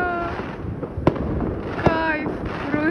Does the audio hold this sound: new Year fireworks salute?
yes